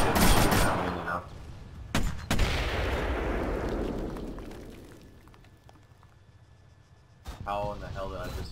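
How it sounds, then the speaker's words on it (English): Gunfire from the ArmA 3 video game, dense loud bursts and booming shots at the start that decay into a long rumbling tail, with another burst near the end and voices talking over it. "Oh shit, he's shooting at me now."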